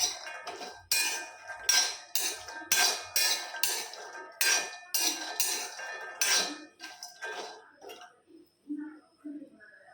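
Cashew nuts roasting slowly in a pan on low heat, stirred with repeated bright metallic scraping and clinking in an irregular rhythm, close and fairly loud, easing off to sparser taps near the end.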